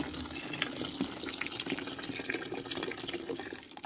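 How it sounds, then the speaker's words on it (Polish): Boiling water from a full kettle is poured into a container at a stable, a steady loud splashing rush that runs unbroken throughout, close up and with no talk. "I teraz będziemy zalewać to wodą gorącą"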